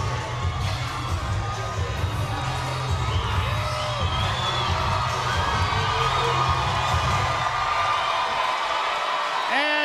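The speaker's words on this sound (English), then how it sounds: "you hear the crowd begin to react to one of their own" A boxing arena crowd cheers and roars steadily through the bout between Claressa Shields and Hanna Gabriels, with scattered shouts and whoops rising near the end. A commentator talks over the dense crowd noise.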